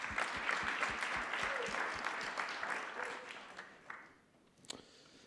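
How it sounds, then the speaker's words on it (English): Audience applause at a social equity event in New York, a steady patter of clapping from a crowd that thins and fades toward the end, with a few scattered claps after. "Round of applause for both of you guys."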